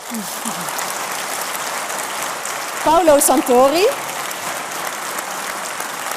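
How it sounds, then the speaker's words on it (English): Audience applause for panelists at a Tilburg University Dies Natalis ceremony, steady moderate clapping throughout while a voice briefly speaks over it in the middle. "May I have a big round of applause for Kita Muis,"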